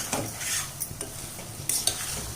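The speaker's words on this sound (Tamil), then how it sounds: "இப்போ நான் மீடியமில் வச்சு நான் கிண்டி கொடுத்துட்ருக்கேன்." Onion thokku is stirred in a pan over a medium flame, giving a gentle sizzle with quick clinks and scrapes of a spoon against the pan, close up and with no voices.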